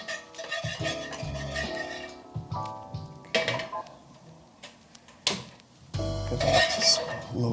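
A metal utensil clinks and scrapes against a pan while stirring zucchini noodle pasta sauce, with irregular sharp knocks and scrapes, some louder bursts near the end.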